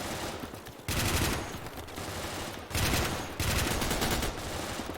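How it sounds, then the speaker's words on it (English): Light machine gun fire in a Desert Storm campaign mod of a first-person shooter game, with dense sustained bursts broken by short pauses, loud and close. "There's actually a LMG here as well."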